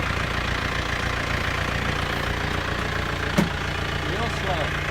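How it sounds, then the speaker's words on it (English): A tractor engine idles close by with a steady, low rumble, a brief knock and some faint talking in the background. "just ease the tractor back."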